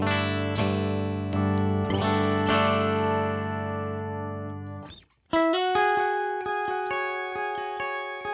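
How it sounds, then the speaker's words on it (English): An electric guitar played through an octave-up effect rings out with sustained, shimmering, organ-like chords, pausing briefly before a new set of notes is struck. "So let's do octave up."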